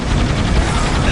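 Rapid, continuous heavy assault cannon fire in Warhammer 40,000: Soulstorm roars loudly and densely throughout, a sustained mechanical burst with no pauses.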